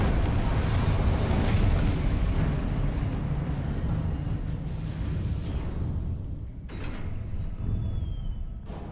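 Spell blasts in Hogwarts Legacy, a dense, roaring wash of booming magical explosions that eases off toward the end, then sharp whooshing zips and a fresh burst, loud and without talk.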